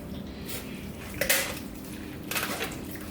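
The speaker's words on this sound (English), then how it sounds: "You're gonna hear that snap where the bone snaps." A whole turkey being broken down on a cutting board, with a knife pressing through the joint between drumstick and thigh and a brief crisp snap of bone, faint and close.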